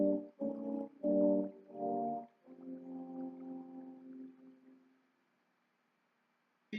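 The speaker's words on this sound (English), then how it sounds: "The wolf is played by three mean horns." Three horns play the menacing wolf theme from Peter and the Wolf in a few short, punchy chords followed by a longer held phrase that fades into silence.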